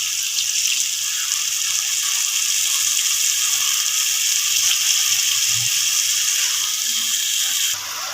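Water is poured steadily into a masala methi tomato curry cooking in a pan, giving a continuous close hiss and gush that stops near the end, with no talking.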